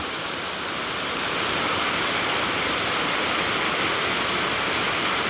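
A waterfall roars as a steady, dense rush of falling water, broad and unbroken, swelling slightly at the start and then holding loud and even throughout.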